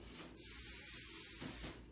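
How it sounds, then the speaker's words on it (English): Kevin Murphy Bedroom Hair finishing spray hisses from an aerosol can onto hair in one steady burst lasting over a second, close and soft, in a quiet room. "You can spray this as much as you want."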